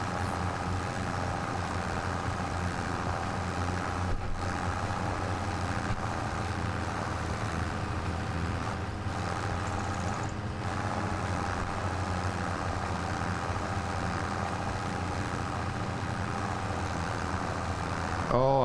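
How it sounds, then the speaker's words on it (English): Tractor engine in Farming Simulator 25 running steadily at a low, droning idle-like rumble, loud and continuous throughout with no speech over it. "Tell you what, bloody loud this tractor."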